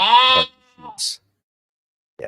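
A sheep bleat sound effect gives one loud, wavering, nasal call at the start, then a short softer bleat, followed by silence and a brief faint sound.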